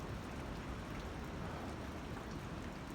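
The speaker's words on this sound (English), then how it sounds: "it's raining, or should I say it's still raining" Steady, even hiss of rain from Hurricane Helene remnants falling in Southern Illinois, faint and continuous with no breaks, no voices, just a soft wash of drops.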